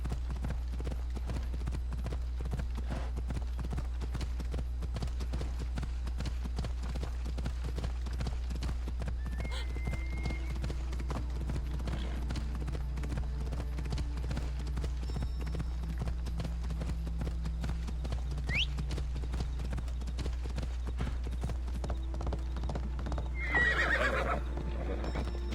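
Horse galloping in Assassin's Creed Odyssey, a steady rapid clip-clop of hooves running through the whole stretch under a low constant hum, with brief whinny-like sounds and a short burst near the end, no clear talking.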